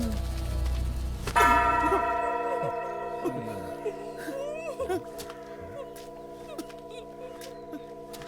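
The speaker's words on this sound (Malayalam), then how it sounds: "ഇന്ന് പള്ളി കയറി വേറെ ആരെങ്കിലും മണിയടിക്കും" A church bell in a Malayalam film scene is struck once, then its layered metallic tones hum and slowly fade for several seconds over soft background sounds.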